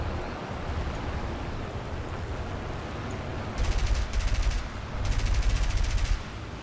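Two sustained bursts of machine gun fire aimed at a Spitfire in the aerial combat game War Thunder, loud and rattling over a steady engine drone.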